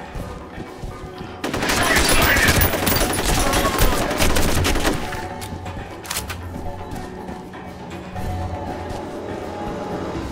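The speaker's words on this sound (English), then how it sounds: "Suppressing fire does work." Sustained automatic gunfire in the shooter game F.E.A.R., a loud dense burst of rapid shots lasting a few seconds, then trailing into scattered, quieter shots and echoing reverberation.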